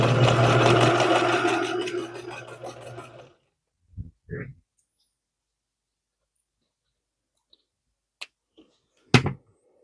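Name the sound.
sewing machine stitching a quilt nine-patch block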